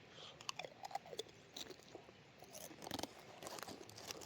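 Crisps eaten from a pack at a solo wild camp in a Scottish forest: faint close crunching and chewing with a few crinkles of the packet, irregular and quiet against soft outdoor background.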